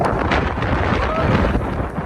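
Strong wind buffets the microphone outdoors on a cold snowy day in Edmonton, a loud continuous roaring rumble with gusty swells throughout.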